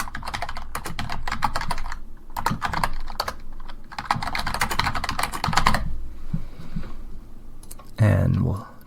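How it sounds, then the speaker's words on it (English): Keys clatter on a computer keyboard in quick irregular bursts while text is typed, pausing briefly between runs, with a louder thump near the end. "So let's just type some text here."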